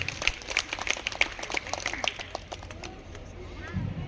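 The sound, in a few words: wedding audience applauding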